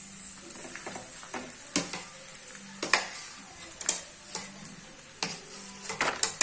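Peeled potatoes for dabeli dropped and stirred into a sizzling pan, giving a gentle frying hiss broken by scattered clanks and scrapes from utensils, no voices.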